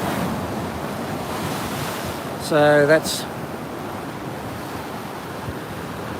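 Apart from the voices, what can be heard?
ocean waves breaking below Fingal Headland cliffs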